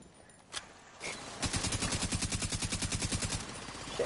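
A deployed automatic turret in The Division 2 fires a steady rapid burst of evenly spaced shots for about two seconds. It follows a couple of isolated thumps and sits moderately loud in the game mix.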